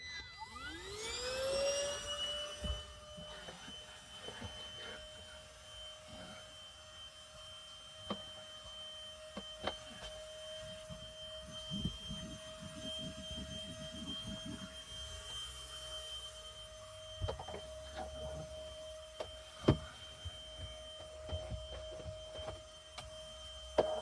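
A small handheld vacuum cleaner motor whines steadily at a high, even pitch after a quick spin-up, running continuously with faint clicks and handling noises underneath, inside an Elddis CV20 campervan.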